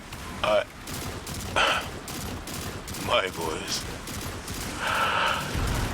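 Bursts of gunfire in the video game Destiny 2 The Final Shape, sharp rapid shots cracking several times amid a busy battle din, with a character's voice speaking over it.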